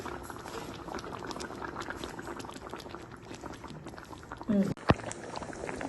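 Fish curry simmers on a stove with a steady, dense bubbling boil throughout, joined near the end by a short clatter and a sharp knock, as of a utensil or lid against the pot.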